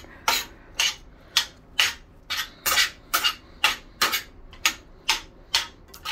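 A utensil scrapes and clinks against a pan while shrimp taco filling is mixed, in a steady rhythm of about two strokes per second, close and fairly loud, with no talking.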